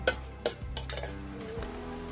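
Chopped onion fries in a pan with a soft sizzle while a utensil stirs and taps against the metal, a few clinks near the start over a steady low hum, close and fairly quiet.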